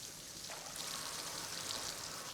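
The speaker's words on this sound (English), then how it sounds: "It's a waterfall." A cartoon waterfall in a tropical jungle river, heard as a steady, broadband rushing hiss of falling water that swells slightly louder partway through and continues without a break, with no voices over it.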